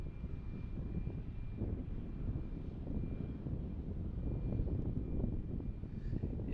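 Two United airliners taxi out at Tampa International Airport, a steady low jet-engine rumble and whine at middle distance, droning evenly with a faint high tone above it, no voices.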